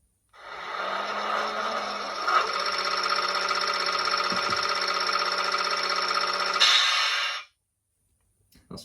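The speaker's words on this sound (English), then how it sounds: "Function 5 is the compressor." A Hornby class 31 DCC model locomotive's sound decoder plays an air compressor effect: a steady, faint mechanical hiss and hum that runs for several seconds, then stops abruptly.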